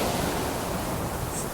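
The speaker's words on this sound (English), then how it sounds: "wrapped the Arc de Triomphe in the live sounds of the sea" Live sea waves piped onto the facades of the Arc de Triomphe form a steady, dense wash of surf noise with no breaks or voices.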